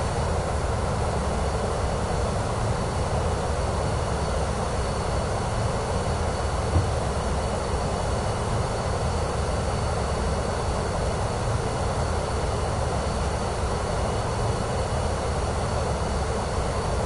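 Steady, droning airplane engine of a Pilatus aircraft cruising near Milan in Microsoft Flight Simulator 2024, a continuous broadband roar with a low hum, holding level throughout with no talk.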